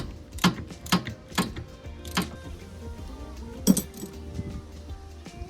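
A 9/16 socket clinks against the prop shaft nut of a Land Rover in a series of sharp metallic taps and ratchet clicks, uneven in rhythm, over a low steady hum.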